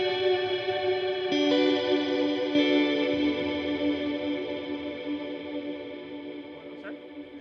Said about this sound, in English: so this is a multi-delay into a reverb, into a delay, and into another delay